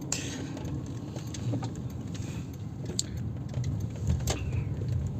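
A car rolls along a city street, heard from inside the cabin as a steady low rumble of engine and road noise with a few faint clicks and rattles.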